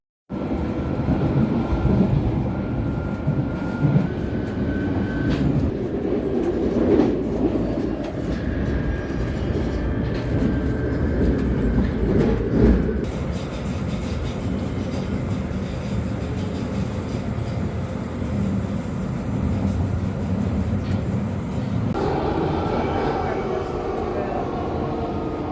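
A London Underground train rumbles steadily along the rails for the whole stretch, a dense continuous roar with faint rattles and tonal whines, and voices talk underneath.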